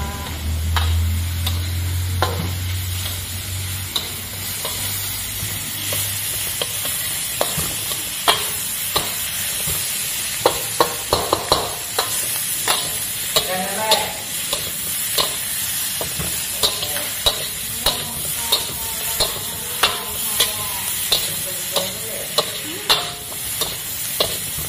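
Raw durian fried together with anchovies sizzles steadily in the pan while a spatula clacks and scrapes in a quick, regular stirring rhythm, close and fairly loud.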